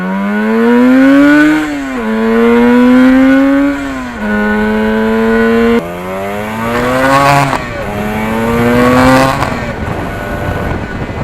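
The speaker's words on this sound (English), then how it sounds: "just going through the gears on a two-stroke, it's so much different than a four-stroke" A 1977 Yamaha RD400 two-stroke motorcycle accelerating through the gears, loud buzzy engine note rising in pitch then dropping at each of several shifts, close and continuous.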